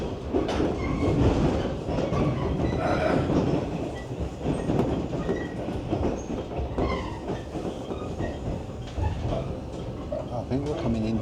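A train rumbles steadily into Ube station in Japan, its wheels clattering over the rails, with a brief squeal of wheels near the end.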